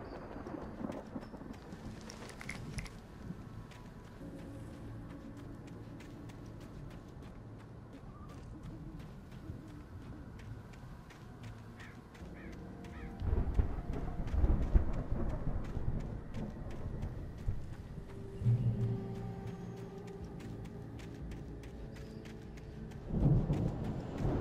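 A thunderstorm in Alan Wake Remastered, with steady rain hiss running throughout and deep rumbles of thunder swelling partway through and again near the end, plus a faint owl-like hoot, with no voices.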